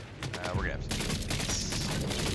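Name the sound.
gun firing grenades in the video game Borderlands 4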